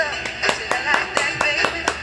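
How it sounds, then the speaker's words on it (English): Hands clap in a quick steady rhythm, about nine crisp claps close by, with some voices underneath. "Round of applause"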